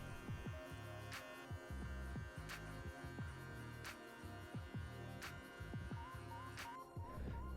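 An electric hair clipper fitted with a number 2 guard buzzes steadily during a low fade haircut, its motor hum broken by repeated short scooping strokes through the hair, close and continuous.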